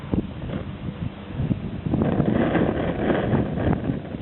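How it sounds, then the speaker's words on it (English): Blustery wind buffets the microphone outdoors on a driveway with low rumbling gusts, growing louder and more constant in the second half. "It is really windy today."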